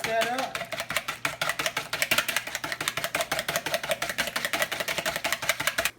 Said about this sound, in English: Get my whisk and whisk that up.